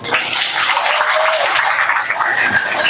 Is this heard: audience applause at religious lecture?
yes